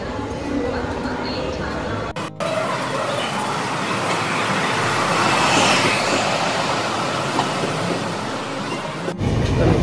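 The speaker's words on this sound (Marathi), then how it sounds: "आपली ट्रेन सुटलेली आहे ठाण्यावर" A passenger train pulls out of Thane station and rolls along, a continuous loud rumble and rattle of wheels and carriages that swells mid-way, with a brief break near the start and a voice talking over part of it.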